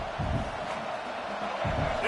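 Stadium crowd at a college football game as the defense blitzes the quarterback, a steady broadband roar that stays fairly loud throughout with no clear individual voices.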